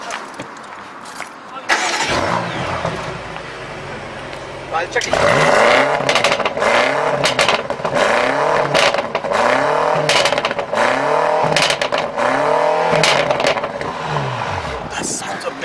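BMW M5 F90 (2018) starting cold, then a series of sharp revs rising and falling in regular bursts, loud and close, with someone talking briefly at the start.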